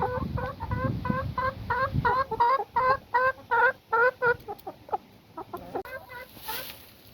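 Tetra breed laying hens cluck in a rapid, rhythmic series of close, clear calls that thin into sparser clucks toward the end, with no talking.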